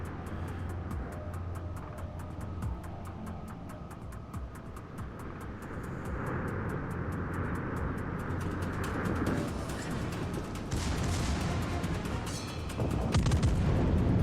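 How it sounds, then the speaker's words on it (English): A battleship main-gun salvo in World of Warships from the Dmitry Donskoi, rumbling with booms and layered gunfire over a steady engine drone. A heavier burst lands near the end. "Salvo out on the Dmitry Domskoy"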